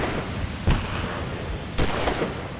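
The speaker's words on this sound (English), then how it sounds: "And then I call artillery on area 1, high explosive." Two booming high-explosive artillery impacts land in the Achtung Panzer war game, each a dull, fairly distant thud with a rumbling tail, spaced about a second apart over low background noise.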